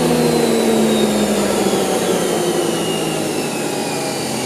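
A fan with a 3D printed blade spins at 8,000 RPM, producing a loud, constant whine and rushing roar with steady tonal hum lines, alone and unbroken for the whole stretch.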